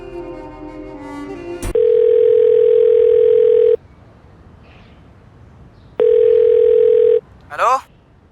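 Telephone tones on a call that fails to connect: two long, loud, steady tone bursts separated by a pause, followed by a brief voice at the end.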